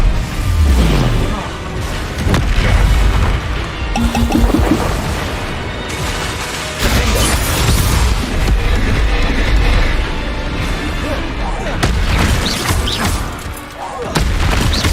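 In Hogwarts Legacy, Confringo fire spells fire repeatedly and land in loud, booming blasts. Heavy crashing impacts follow one another in quick succession while a voice shouts spell names.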